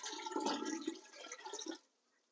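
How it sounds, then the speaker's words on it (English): Water poured into a soup pot over meat, a steady splashing gush filling the pot for about two seconds, then cutting off abruptly to near silence. "I'm going to do 3 quarts of water"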